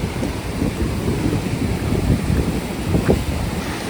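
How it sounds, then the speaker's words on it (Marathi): Large sea waves crash and churn against a rocky shore near a seaside temple, making a constant loud, broadband roar with no talk. "प्रचंड मोठ्या प्रमाणात लाटा येत आहेत"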